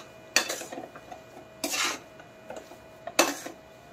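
A coconut and dry-fruit mewa paag mixture being stirred in a metal pan, heard as three distinct bursts of spoon scraping and clatter against the pan with quiet pauses between them, close up and with no voices.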